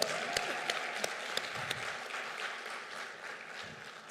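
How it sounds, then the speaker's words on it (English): Forum audience applauding in a steady, moderately distant wash of clapping with a few sharper individual claps standing out, no talking. "can we have a big applause?"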